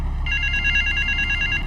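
A telephone rings in the Grand Theft Auto 3 video game: a steady electronic trill that starts after a brief pause and runs continuously, bright and clear over a low background hum, with no talk.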